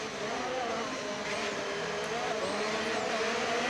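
A race car engine in a racing video game holds a steady, loud droning whine as the car heads into the pit lane, continuous with no voices over it.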